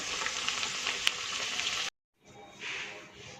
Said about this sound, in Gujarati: બધા સમોસાને તળી લઈશું